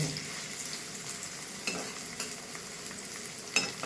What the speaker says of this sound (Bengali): মশলা এখন নেড়ে দিয়ে ঢেকে রাখবো